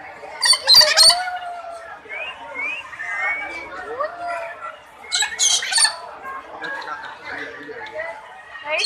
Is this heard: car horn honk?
no